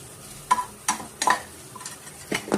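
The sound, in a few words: chicken samosa filling being broken up and fried in pan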